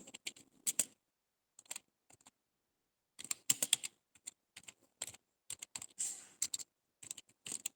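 Someone types on a computer keyboard while writing in MS Word, with short bursts of crisp, close key clicks separated by brief pauses, quiet and alone.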